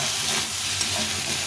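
Sliced tomato frying in a pan for a Bengali mrigal fish curry, a steady close sizzle and hiss running alone throughout.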